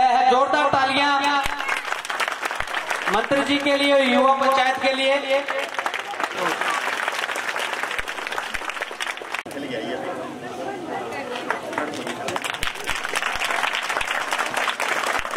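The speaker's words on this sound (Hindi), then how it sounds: "जोरदार तालियां" Crowd applause at a village youth panchayat event in Haryana, a loud, dense burst of clapping running under an amplified announcer's voice and continuing strongly after the speech drops away.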